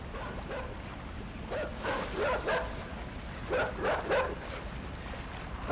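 A dog barks in a few short clustered bursts outdoors near water, set against a steady wash of ambient noise.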